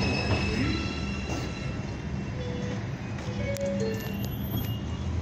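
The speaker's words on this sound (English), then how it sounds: "This is a Manhattan-bound 2 express train." An R142 subway train on the Manhattan-bound 2 express at East 180 Street, steady loud rumble of wheels on rail with brief metallic squeals and tones over the rolling noise, close by.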